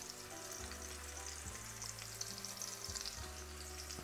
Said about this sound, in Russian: я начинаю обжаривать говядину.